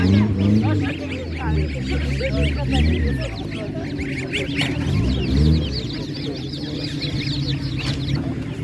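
Geese and ducks honk and quack in a noisy crowd at a village livestock market in Ukraine, with people talking nearby amid busy market bustle.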